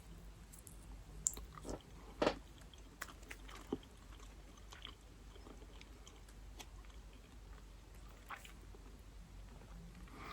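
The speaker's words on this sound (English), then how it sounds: "I'm going to try a bit of the patty on its own." Chewing on a bite of a McDonald's burger patty, with soft, irregular mouth sounds and a few sharper bites close to the mic, steady throughout with no talking.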